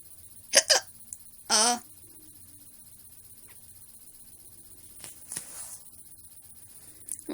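A person's hiccups, two sharp close bursts early on, then a longer gulping one, followed by a few fainter hiccups and breaths spaced out over the rest of the clip, with no talking.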